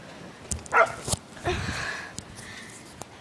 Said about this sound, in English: Look at, that's my dogs.